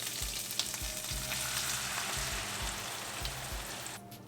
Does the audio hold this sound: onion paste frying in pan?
yes